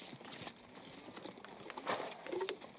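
A lone horse's hooves clip-clop on the ground, faint and somewhat distant, in uneven steps that grow a little louder near the end.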